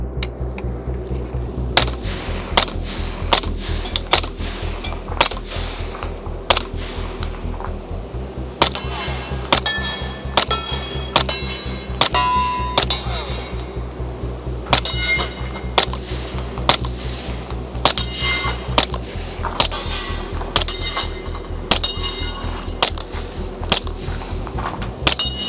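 Grand Power Stribog firearms, including the SP10 A3, TR22 and SP9A3SG, fire at a shooting range: sharp, loud shots come in steady single strings, with some faster runs of rapid shots that ring with metallic echoes.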